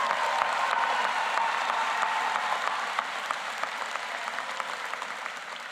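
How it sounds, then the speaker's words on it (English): Audience at a high school graduation ceremony for the class of 2026 gives a round of applause: many hands clapping in a steady wash that slowly fades, with no voices over it. "Yeah, that deserves a round of applause."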